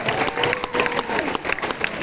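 Brief burst of clapping from a crowd of children and guests at a student songs and elocution competition in Hyderabad, dense and fairly close, with some cheering mixed in.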